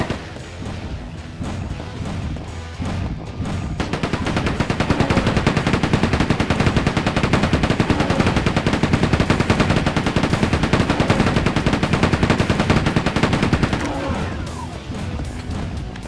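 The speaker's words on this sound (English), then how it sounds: "Hit him more with a chain gun" Sustained, rapid chain gun fire in Quake 2 on PlayStation, a loud dense stream of shots running for about ten seconds after a few scattered hits and impacts, then trailing off.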